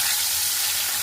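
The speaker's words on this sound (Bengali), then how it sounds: "কড়াইতে দেখো সর্ষের তেল দিয়ে দিয়েছি, তেলটা গরম হয়ে গেছে। এবার মাছগুলো ভেজে নেব।" Parshe fish fry in hot mustard oil in a wok, giving a loud, steady, dense sizzle that crackles evenly throughout with no voices.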